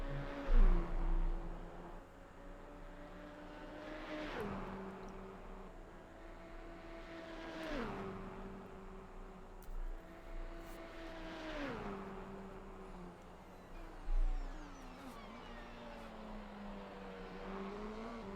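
Race cars accelerate down the main straight at Fuji in a racing game, several engines rising in pitch through gear changes one after another, steady and fairly clear with no talk.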